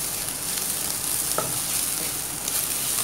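Soya chunks frying in coconut oil in a pan, with a steady broadband sizzle and occasional scraping stir strokes, close and continuous throughout, with no voices.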